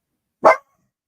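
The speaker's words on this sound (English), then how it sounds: "Dog." A single sharp dog bark, loud and close, standing alone in otherwise silent surroundings.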